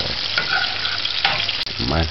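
Saltfish macaroni sautéing in a pan on a stove set just below medium, giving a steady, close sizzle and crackle throughout, with a brief stirring scrape near the end and no talking.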